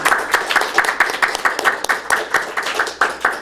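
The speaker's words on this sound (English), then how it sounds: "Round of applause." Audience at a Toastmasters club meeting applauding a new member, a steady patter of many hands clapping fairly loudly for the whole stretch, with no one talking over it.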